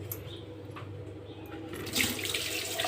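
A tap runs steadily into a sink while dusty household items are rinsed during daily home cleaning, the water noise swelling louder near the end.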